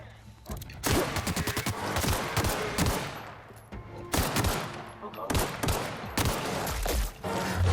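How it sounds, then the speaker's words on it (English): Rapid bursts of gunfire from a gun in the video game The Outer Worlds, loud and close, with volleys repeating in clusters and brief pauses between them. "The amount of kickback on this gun is pretty real."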